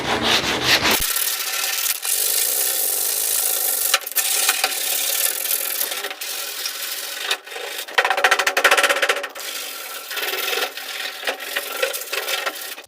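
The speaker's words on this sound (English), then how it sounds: "Now I'm just going to use some 120 grit sandpaper to rough the surface" Acrylic plastic is sanded by hand with 120 grit sandpaper, a close, continuous scratchy rubbing of back-and-forth strokes with brief pauses between passes.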